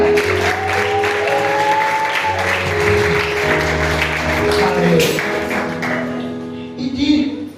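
A church congregation claps together to acclaim the Lord during a worship service, steady applause layered over sustained musical tones that swell near the end.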